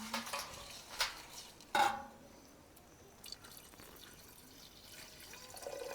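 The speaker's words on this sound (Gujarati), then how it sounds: "હવે નાખી દઉં પાણી." Water is splashed into a pot of crab curry cooking on the stove, a few faint sloshes and drips with small clinks of a pot and spoon, quiet and close.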